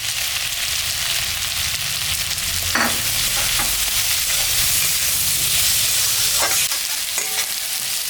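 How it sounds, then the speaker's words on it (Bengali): A vegetable curry fries loudly in a pan, giving a dense, constant sizzle and hiss with a few scraping stirs cutting through. "এটা ভাজা ভাজা হয়ে গেছে তরকারিটা"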